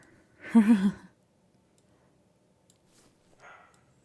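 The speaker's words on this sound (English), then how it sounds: "I hear the dogs being noisy downstairs" Dogs downstairs give one short muffled woof-like bark, heard indoors at a distance, followed by silence and a faint second yip later, with no talking.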